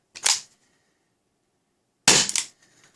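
Two sharp, close pops from a Rekt Jury CO2 revolver blaster fired through a chronograph, spaced about two seconds apart with near silence between them.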